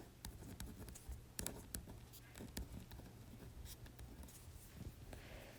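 A pen writing on paper, soft scratchy strokes in short irregular bursts, close and faint, with a quiet low background hum and no talking.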